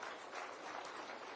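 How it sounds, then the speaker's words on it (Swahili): An audience at a Nairobi schools food programme event applauds its partners with a brief, faint burst of steady clapping. "Tuwapigie makofi hawa watu jamani."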